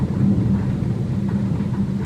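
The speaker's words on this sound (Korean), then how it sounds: "천둥 소리." Thunder rolls as a low, continuous rumble with steady grainy texture, heard alone and fairly close for a couple of seconds, as if during a storm near Madrid.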